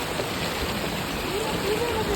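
Steady rain pours down outdoors as a dense, even hiss that stays loud and unbroken throughout.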